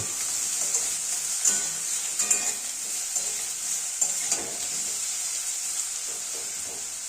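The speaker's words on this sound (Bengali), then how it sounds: "বেগুনগুলো এপিটোপিট ওলট পালট করে আমরা ধীরে ধীরে ভাজতে থাকব" Small-cut eggplant pieces fry in a pan as they are turned over slowly, giving a constant bright sizzle and hiss with soft intermittent scrapes of stirring, close by and without speech.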